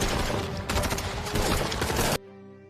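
Rapid bursts of gunfire from the film Counter Attack crackle in dense volleys for about two seconds, then cut off abruptly to a quiet low hum.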